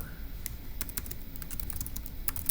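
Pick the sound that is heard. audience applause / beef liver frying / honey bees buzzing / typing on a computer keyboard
typing on a computer keyboard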